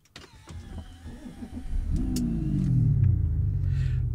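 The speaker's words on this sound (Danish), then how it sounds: "Bare alene lyden, så er jeg solgt." An Audi A6 3.0 V6 Competition quattro starts or revs, a deep engine rumble swelling and then holding steady and loud, after a brief whir like a power window.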